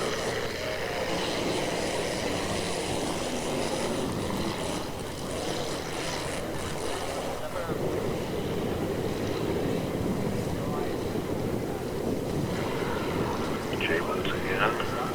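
Inboard hydroplane racing boats roar steadily at a 1980 race in St. Petersburg, a broad continuous engine drone with a commentator talking over it.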